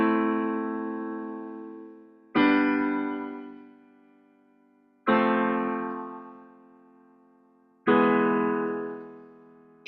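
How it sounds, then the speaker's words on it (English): Four piano block chords are struck one at a time, about every two and a half seconds. Each chord is full and close and rings out, fading slowly before the next one. No one talks. "I just want you to hear how it sounds versus if I were to play it with the block chords."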